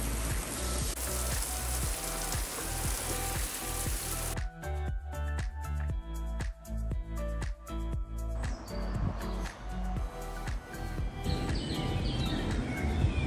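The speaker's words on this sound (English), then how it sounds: "the one thing that we can be sure of in this country is the rain" Rain falls on a garden terrace with a dense, steady hiss for several seconds, then gives way to a quieter, patterned backdrop with faint bird chirps.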